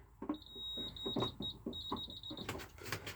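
A Menvier MF200 fire alarm panel beeps high-pitched in short bursts and one longer tone during installation, over clattering handling noises nearby.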